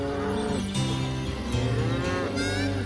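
A lone cow separated from her herd on a Texas ranch, giving several loud, drawn-out moos one after another, close and clear with no talk.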